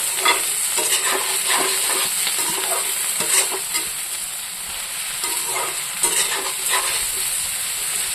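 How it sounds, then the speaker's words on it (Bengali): Brinjal and onion fry together in a hot pan, a steady close sizzle with repeated scraping stir strokes every second or so, no voices. "এটার সাথে দিয়ে দেবো এই যে বেগুন, একসাথে ভাজবো"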